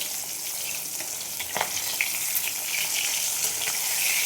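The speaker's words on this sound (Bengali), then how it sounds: "দেখো আমি মাছ ভাজছি, এটা চিতল মাছ।" Pieces of chital fish fry in hot oil in a steady crackling sizzle, with a few sharper pops and spatters scattered through, close and constant with no talking.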